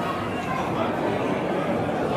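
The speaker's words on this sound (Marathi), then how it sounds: "गर्दी तर खूपच आहे, तरी पण बाडी मागे पूर्ण गर्दी गर्दी आहे।" Dense crowd murmur filling a packed hall at the Tuljapur Tulja Bhavani temple, a steady indistinct babble of many voices with no single voice standing out.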